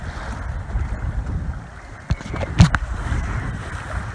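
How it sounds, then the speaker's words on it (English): Steady wind of about 15 knots, gusting to 18, rushes and whistles through a sailboat's rigging during an offshore race, with water wash beneath and a few knocks and creaks from the vessel. "Wind's whistling in the rigging."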